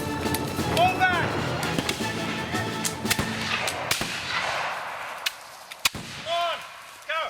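Gunshots fired in a battle scene, a dense spray of sharp cracks and booms over rumbling noise, with shouting voices mixed in and scattered single shots as the firing thins out.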